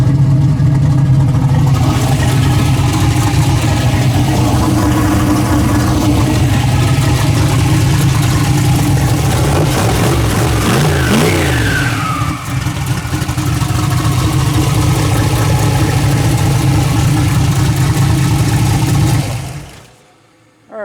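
A steady 850 engine idles loudly and continuously at about 1,000 rpm, a low, even rumble with a brief change in tone partway through before it cuts off at the end.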